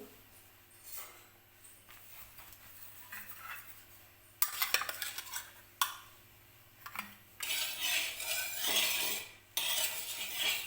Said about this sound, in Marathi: सगळीकडे उलटाण्याने मी तेल लावून घेते व्यवस्थित